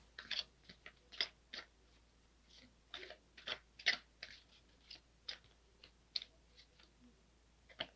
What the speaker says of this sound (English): I was told to keep shuffling,